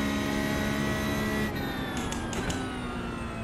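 A race car engine drives at steady load around a track lap, running loud and continuous and close by, with a few brief shifts in tone partway through.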